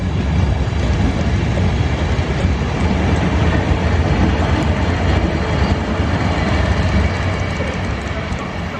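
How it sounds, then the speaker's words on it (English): A train runs up through platform 6 on the fast line, a steady loud rumble of wheels and carriages rolling past close by for the whole stretch, a faint clickety-clack in the wheel noise. "there's a train going up through platform 6"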